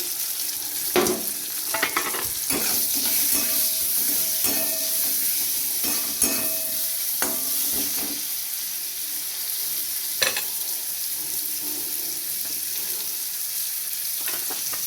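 Pieces of bata fish coated with turmeric and salt fry in hot oil in a pan, giving a steady sizzle throughout, with scattered clicks and scrapes of stirring. No one speaks.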